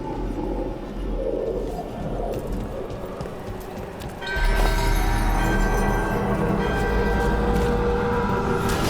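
A ritual bell in the fantasy game Dragon Age: The Veilguard rings out suddenly and loud, its sustained metallic tones filling the space after a quieter, murmuring ambience.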